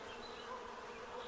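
Bees buzz in a continuous, even hum around a beekeeper's smoker, steady and moderately close with no pauses.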